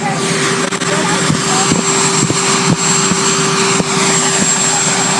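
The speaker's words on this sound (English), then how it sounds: "That damn helicopter motor." A helicopter engine drones loudly and steadily nearby, its rotor pulsing in a regular beat, with a voice talking over it.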